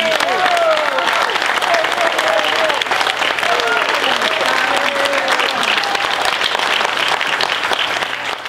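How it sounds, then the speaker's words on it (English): An audience claps for a group of brave women at a gathering in Bent Mountain, Virginia: dense, sustained applause that stays loud and even for several seconds, with a few voices faintly mixed in. "How about a round of applause for these brave ladies?"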